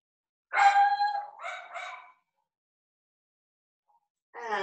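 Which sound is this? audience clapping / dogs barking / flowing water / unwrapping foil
dogs barking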